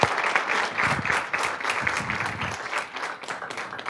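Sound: audience applause

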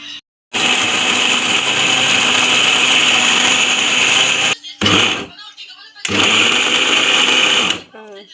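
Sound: mixer grinder running

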